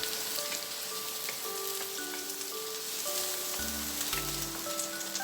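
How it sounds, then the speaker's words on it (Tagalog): Pork pieces sizzle and crackle in a hot pan with garlic, a steady close frying hiss with scattered pops throughout, no talking. "piprituhin natin ng bahagya ka-friendship ang ating pork"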